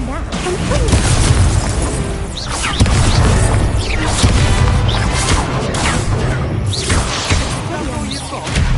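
Incendio fire spell blasts in the Hogwarts Legacy video game, loud repeated booms and crashing bursts with whooshes under a continuous busy soundtrack, while a voice talks over it.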